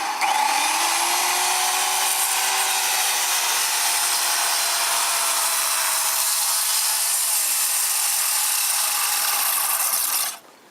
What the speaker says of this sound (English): circular saw, it's set as deep as possible with the plate here and the depth gauge